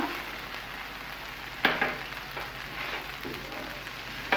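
Chicken cubes with butter, garlic and vinegar fry in a pan, giving a steady soft sizzle with a few louder crackling bursts as the food is stirred, fairly close and without talk.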